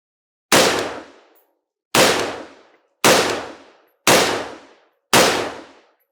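Five suppressed 5.56 rifle shots fired at a target, each a sharp loud crack with a short decaying tail, evenly spaced about a second apart with silence between.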